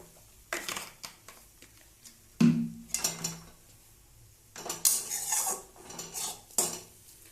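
A metal spoon scrapes and clinks against a pan while stirring spicy semolina (suji) into loose grains, in irregular bursts of knocks and scrapes, fairly close and moderately loud, with no talking.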